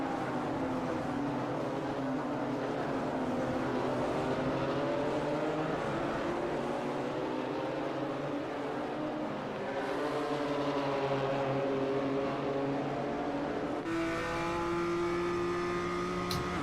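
ChampCar race cars racing at Sebring in iRacing, engines droning and revving continuously with rising and falling pitch as gears change, a steady mid-level roar with no voices.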